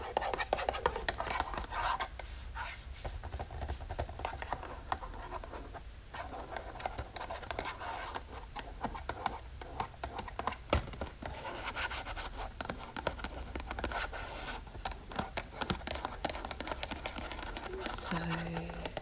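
Close-up scratching and tapping on a cardboard box that held a dried, spiced dal snack, a steady run of scratchy, rustling strokes broken by light taps throughout.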